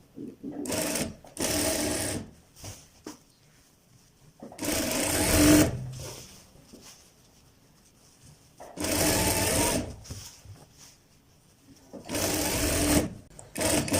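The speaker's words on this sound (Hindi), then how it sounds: "हमने अपनी जो फिटिंग है उसकी सिलाई अटैच करनी है" Electric sewing machine stitching the fitting seam of a ladies suit, four loud whirring runs of a few seconds each, separated by quiet pauses with faint handling sounds.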